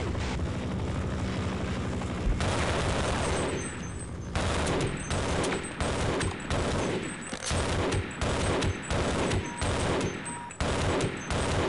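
Rapid gunfire from the video game Half-Life, bursts of automatic shots repeating over a loud, continuous mechanical roar like a helicopter or aircraft, dense and sustained throughout.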